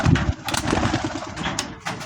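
Pigeons released outdoors flutter and coo in brief bursts of wingbeats, close and fairly loud, with no voices heard.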